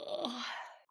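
A dog yawns with one long, drawn-out whining moan that slides downward and fades over about a second, close and fairly soft.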